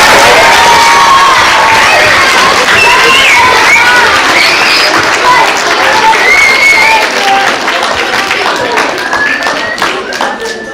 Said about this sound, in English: Ladies and gentlemen, do they deserve another round of applause?